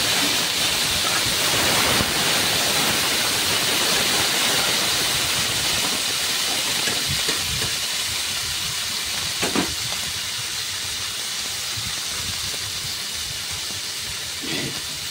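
Cut potatoes fry in hot oil with panch phoron, bay leaf, green chillies and ginger, making a loud, steady hissing sizzle throughout with a few faint clinks and no voices.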